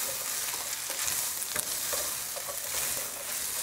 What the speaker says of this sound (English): Crumble it in there. Give it a stir.